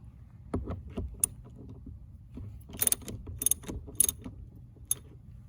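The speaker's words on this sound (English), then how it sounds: "For the removal of the service stops, you're going to want a extended socket wrench." An extended socket wrench works loose 17mm service stop fittings on a pressure balance shower valve, giving sparse, close metallic ratchet clicks and light taps over a quiet background, with a brief cluster of sharper clicks near the end.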